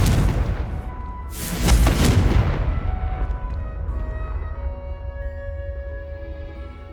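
A Confringo blasting spell detonates in Hogwarts Legacy, a booming explosion about two seconds in that rolls off into a fading rumble, with a bright chiming hum lingering afterward.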